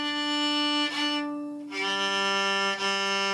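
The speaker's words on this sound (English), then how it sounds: "And that's the fact that the piezo is picking up the bowing noise." Passive electric violin with a piezo pickup: sustained bowed notes with a bright, raspy edge and audible bow-hair scratch, changing pitch a few times with brief bow changes, close and alone.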